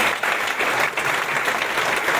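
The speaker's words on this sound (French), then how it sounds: "Et vos applaudissements à Luc Zogbé." Audience applause at a tournament draw ceremony in France, dense continuous clapping from a large crowd, loud and steady throughout without pause.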